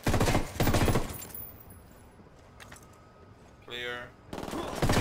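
Gunfire in Ghost Recon Wildlands: loud bursts of rapid automatic shots open and close the scene, with a quieter burst in the middle and a brief spoken word between them.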